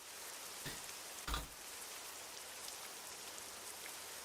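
Steady rain falling in a truck driving video game, a continuous broadband hiss with a couple of brief louder knocks, no talk.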